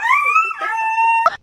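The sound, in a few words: dog howling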